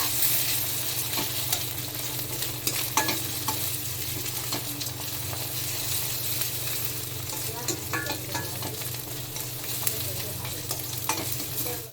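Cooked rice being mixed with masala and greens in a hot pan for dhaba-style jeera rice, a steady soft sizzle with repeated scraping and stirring strokes, close and continuous with no talking.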